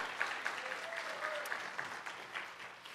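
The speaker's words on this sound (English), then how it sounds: "give the Lord a hand clap" A church congregation claps their hands in praise during a worship service, a dense, steady wash of many hands lasting throughout at moderate loudness, with faint voices mixed in.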